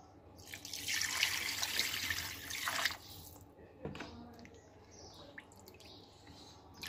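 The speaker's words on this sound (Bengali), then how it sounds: "এখন পানি দিয়ে দিব।" Water pours into a pan of mustard-marinated hilsa fish, a steady splashing stream for about three seconds, followed by a few faint drips and clinks.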